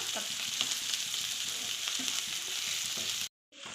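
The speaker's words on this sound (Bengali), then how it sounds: "দেখুন ভাজা হয়ে গেছে, রসুন পেঁয়াজ সবই ভাজা হয়ে গেছে।" Steady loud sizzling of garlic and onion frying in a pan, with occasional stirring scrapes, cutting off abruptly near the end.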